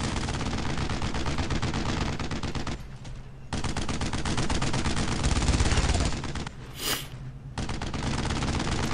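Dense automatic gunfire from the World War II game Brothers in Arms: Road to Hill 30, rapid bursts rattling continuously with brief pauses, close and loud, plus a sharp whistling streak near the end.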